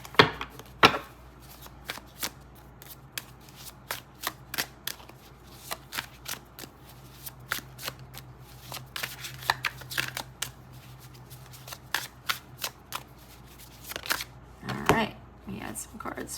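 Tarot cards being shuffled by hand, a long run of quick crisp riffling clicks and slaps in irregular bursts, fairly close and moderate in level, with a low hum underneath.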